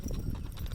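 Horse hooves clip-clop steadily on a trail drive, close and fairly loud, with a continuous rumbling background.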